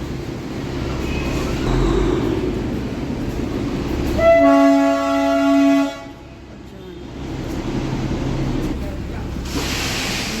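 Darjeeling's narrow-gauge toy train rumbles along, then its horn gives a loud, near, steady toot lasting about two seconds, with people talking over the running noise.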